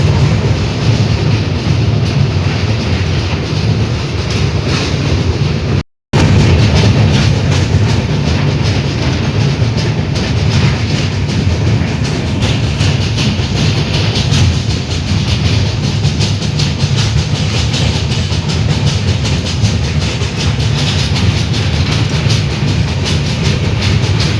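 A train rumbles across the Kolaghat rail bridge, a loud, continuous rattle and clatter of wheels on track heard from on board, with one brief dropout partway through.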